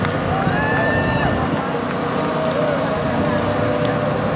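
Engines of the Arizona Precision Motorcycle Drill Team's bikes run as a steady, loud drone close by throughout, with a rising whine early on.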